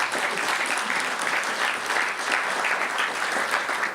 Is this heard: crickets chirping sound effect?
no